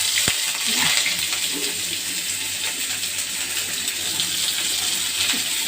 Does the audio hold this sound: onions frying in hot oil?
yes